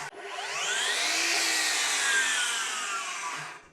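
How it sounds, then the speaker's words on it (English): A 12-inch miter saw powered from an Anker SOLIX F3800 portable power station spins up, whines loudly at a steady high pitch for about three seconds, then winds down as the blade slows. "I'm running a 12-inch miter saw with no issues at all."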